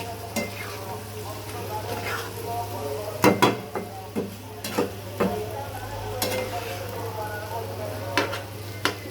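Taro curry with ginger, garlic and chilli is stirred in a pan over a low steady sizzle, with several sharp scraping and clinking spoon strokes against the metal at irregular intervals.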